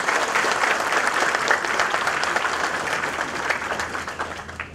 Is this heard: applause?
yes